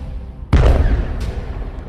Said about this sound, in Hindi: यहां एक मिसाइल निकलती है और सीधे बॉर्डर पर खड़े इजराइल के मरकावा टैंक को फोड़ देती है।